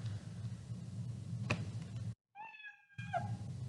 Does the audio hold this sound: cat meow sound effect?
yes